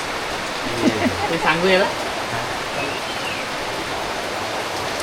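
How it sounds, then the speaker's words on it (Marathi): Heavy monsoon rain pours steadily on a road between Phungus and Sangameshwar, a dense, even hiss filling the whole stretch, with brief voices talking over it near the start. "पाऊस बघा आल्यापासून पावसाला सुरुवात झाली आहे ना. आता जोर वाढला आहे."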